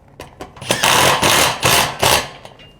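A power screwdriver drives a screw through a metal siding sheet on a post frame workshop, giving several loud, bursty whirring runs with brief pauses and a tinny rattle of the panel, heard close and alone.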